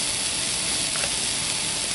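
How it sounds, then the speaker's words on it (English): Apples cook with brown sugar in a pan, giving a steady, soft sizzling hiss close by with no talk over it. "We'll go ahead and get these cooked down just until they're a little bit softened up."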